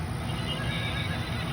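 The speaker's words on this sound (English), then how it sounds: "There you go. The horse." A doorbell in a converted 5x8 cargo trailer camper plays a recorded horse neigh, a single loud, slightly tinny whinny filling the short moment.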